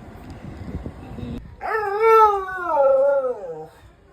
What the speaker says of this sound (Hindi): मेरा कुत्ता प्यारा तो है